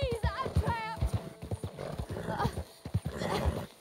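In Red Dead Redemption 2, a horse whinnies with a rising, wavering neigh, then hooves clop in an uneven rhythm close by, with a voice speaking over the later steps.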